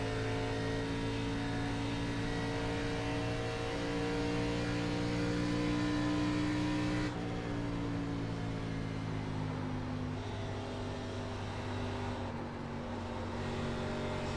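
Race car engines drone at high revs during an iRacing ARCA Menards Series simulation race at Pocono. The tone holds steady at full throttle, shifts pitch abruptly partway through, then sustains as other cars run alongside, with no speech.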